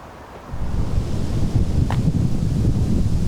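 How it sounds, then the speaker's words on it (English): Strong wind gusts across an outdoor disc golf course at a national championship in Finland, a loud, continuous roaring rush buffeting the microphone that swells after a softer start and stays heavy throughout. "it's super windy and you don't want to contend with that ripping headwind"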